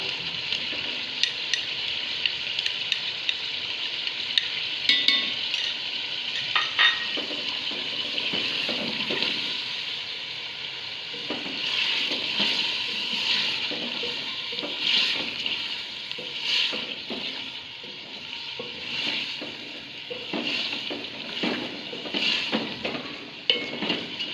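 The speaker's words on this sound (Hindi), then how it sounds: "चिकन को हम अदरक और लहसुन के पेस्ट के साथ फ्राई किया है" Chicken frying with potatoes and ginger-garlic paste in a pan for a biryani, a long hissing sizzle with repeated stirring scrapes that thicken and fade in waves, close and unaccompanied by voices.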